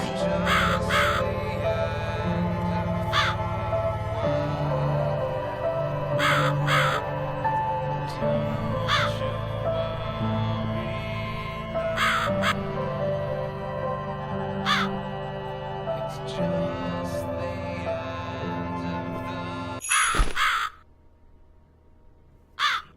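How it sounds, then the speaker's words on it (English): A crow caws repeatedly in the horror game The Cat Lady, harsh, loud calls over a dense musical backdrop that cuts off near the end, leaving near silence. "The music stopped and there's a crow."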